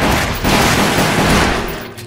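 Rapid gunfire in the shooter game Resident Evil: The Umbrella Chronicles, a loud dense burst of shots lasting about two seconds before tapering off.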